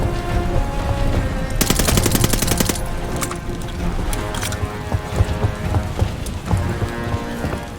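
Rapid machine-gun bursts fired at a tank driver in the World War II shooter Call of Duty: Vanguard, a dense rattling volley followed by scattered shots over a steady rumble of engines and battle noise.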